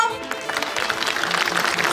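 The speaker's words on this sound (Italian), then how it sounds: "fatemi sentire l'applauso" Audience applause at the Miss Venice Beach 2022 final in Sottomarina, Venice, a steady wash of clapping with a voice and music heard underneath.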